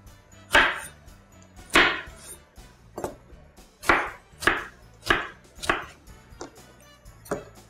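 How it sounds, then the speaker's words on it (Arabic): Knife chopping tomatoes on a cutting board while cooking chicken, about ten sharp, loud chops at an irregular steady pace with brief pauses, heard alone without talk. "اكمل تقطيع الطماطم"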